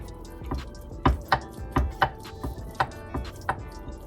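A knife slices through rested baked spaghetti in a dish, giving a run of soft, fairly close cutting and tapping strikes about every half second, quiet and with no talk.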